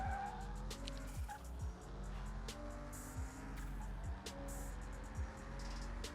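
Car Mechanic Simulator 2021 race start with a tuned Evo VII pushing 500 horsepower: engines rev up and down in repeated sweeps with tire squeal and skidding, fairly loud and continuous.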